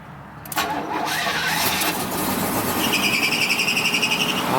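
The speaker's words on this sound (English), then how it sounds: "Well, it is a cold start. It's probably been 6 months." A car engine, unused for about six months, cranks and catches on a cold start, then settles into a loud, rough, close idle with a steady pulsing rhythm and a faint high squeal from a loose belt.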